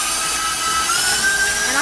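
An electric mixer whirs steadily and loudly while beating cream cheese frosting in a bowl, a constant high motor whine with a faint rising tone.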